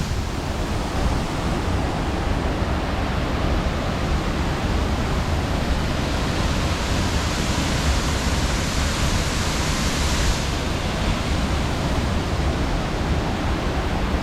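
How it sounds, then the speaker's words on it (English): Dodiongan Falls pours with a steady, dense roar of rushing water, loud and unbroken for the whole stretch, with no voices over it. "This waterfall is beautiful."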